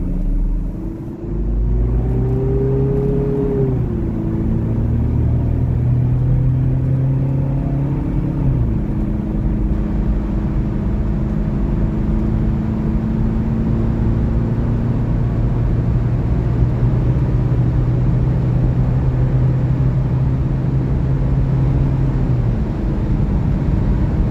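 Remapped stock Mitsubishi Pajero 2.5 engine accelerating through the gears on the road, a loud continuous drone climbing in pitch, dropping at each gear change, then rising again and settling into a steady cruise.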